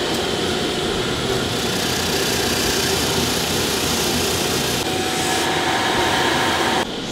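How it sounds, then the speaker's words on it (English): A wire wheel scrubs burrs from freshly cut threads on a knife pommel nut, giving a steady, loud whirring hiss of spinning bristles against steel that runs continuously without pause. "I like to run over my newly made threads with a wire wheel just to clean up some of the burrs"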